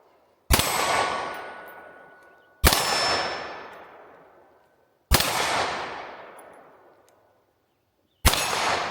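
Four S&W 22 Magnum rounds striking steel targets, each a sharp, ringing metallic clang that decays slowly over a couple of seconds, spaced evenly apart with near silence between hits.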